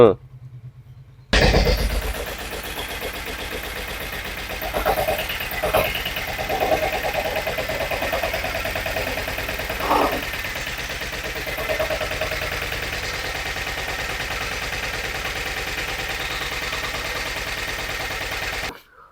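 A Rajhit Sanedo mini tractor engine runs steadily after a sudden loud start, its continuous mid-pitched drone holding for most of the clip while someone talks over it.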